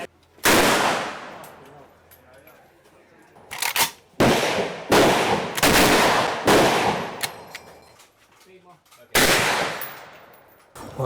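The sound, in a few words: gunshots from a live firing range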